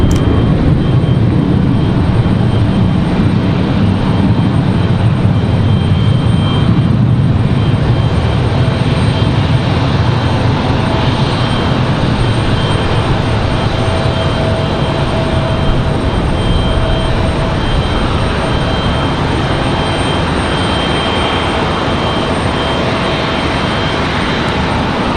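A Boeing 717 airliner departs from an airport, its engines producing a loud, steady roar that holds for the whole stretch with only slight changes as it passes.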